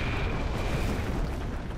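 Cannon fire pounds at the gates in the Black Skylands video game, a dense, loud, continuous roar of booming explosions with no pause across the short stretch.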